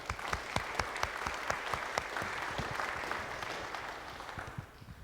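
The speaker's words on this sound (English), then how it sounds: "Yeah, we're going to clap for that." An audience at the Berkley State of the Cities 2023 event claps in a moderate, slightly uneven patter of distinct hand claps that thins and fades toward the close.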